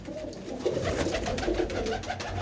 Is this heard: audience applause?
no